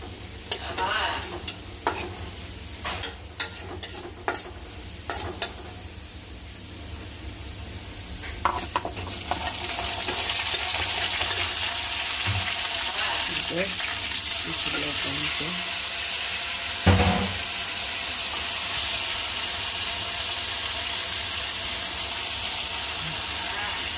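Onions frying in a pan. Scattered clicks and stirring come first, then a dense, steady sizzle builds and carries on loud and close for the rest of the time, with an occasional scrape.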